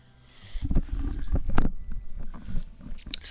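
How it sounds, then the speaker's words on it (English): Eyeglass arms rub against the ear cups of a SteelSeries headset, giving close, muffled scraping rumbles in short, irregular bursts. "just the glasses arms rubbing up against the cups makes a super annoying sound"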